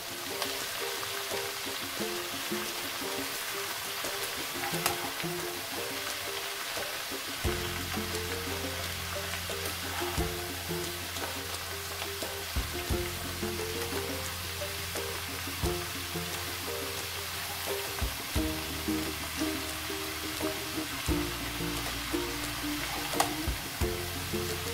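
Fish head mixed with salt and turmeric is stirred in a pan for bhetki fish-head lau ghonto, giving a steady close sizzle with soft scraping stir strokes throughout and no talking.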